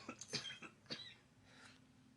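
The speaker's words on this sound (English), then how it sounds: "I'll move the mic away to cough" A woman coughs several times away from the mic, a few short, faint, muffled bursts that are followed by quiet.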